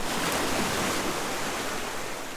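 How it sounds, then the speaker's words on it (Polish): Sea waves breaking on the beach at Sozopol in August, a loud continuous wash of surf close by, steady and broadband with no voices. "Fale są, Niko?"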